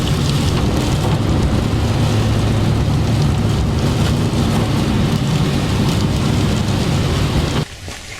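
Harsh wind and heavy rain batter the surroundings in a loud, steady roar with deep low rumble, continuous throughout before dropping off abruptly at the very end; no voices.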